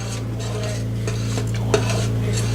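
A spoon scrapes and clinks around a pot of thickening fudge candy as it is stirred, with scattered light scrapes and one sharper knock over a steady low background hum.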